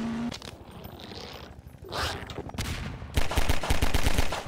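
Gunfire in the video game Half-Life 2: Episode 2, a loud run of rapid shots that builds to a dense, sustained burst in the final second and a half over background game sound.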